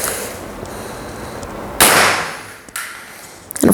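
A toy HDS68 double-barrel shotgun fires soft bullets: two sharp pops about a second apart stand out over a steady background hiss, followed by a few faint clicks.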